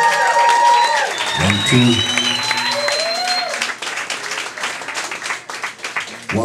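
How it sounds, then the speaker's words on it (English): Audience applause and cheering at a live Chicago blues club show, a dense crowd roar under an announcer's amplified voice, fading toward the end with scattered claps. "Big round of applause, Chicago Blues Hall of Famer."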